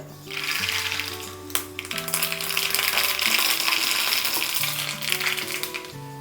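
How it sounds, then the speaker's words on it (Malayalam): Mustard seeds spluttering and popping in hot oil in a pan for Kerala choora fish curry, a dense crackling sizzle with sharp pops, close, with a steady background music bed. "ഇനി നമുക്ക് വേണ്ടത് കടുക് പൊട്ടിച്ചിടണം"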